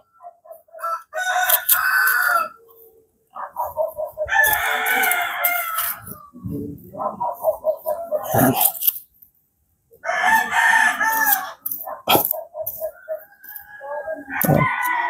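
Chickens and roosters at a farm crowing loudly in repeated long, strained calls with short clucks between, several birds nearby, with a person speaking at times.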